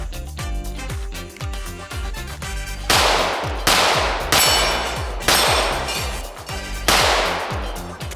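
A ported Glock 17 pistol fires in rapid strings outdoors. Sharp, loud cracks come in quick succession, with a few heavier shots standing out as echoes ring between them, and no voices.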